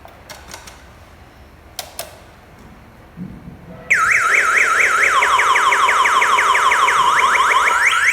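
A Mondial SFC 100 Snappy motorcycle alarm blares with loud, rapidly sweeping electronic siren tones that cycle continuously, preceded by a few faint clicks and handling knocks.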